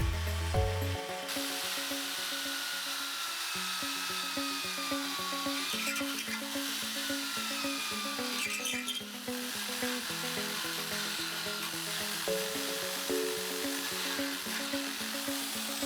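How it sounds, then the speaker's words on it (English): A high-pitched drill whines and grinds into the back of a stone veneer mantel, its pitch shifting as it bores, steady beneath a looping music track. "Drill holes into the back side of the mantel."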